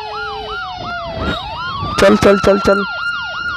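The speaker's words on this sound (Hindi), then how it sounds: "पीछे एम्बुलेंस है, साइड हट" An ambulance siren wails continuously, cycling up and down through a traffic jam, while someone shouts urgently nearby and a few loud horn-like honks burst in midway.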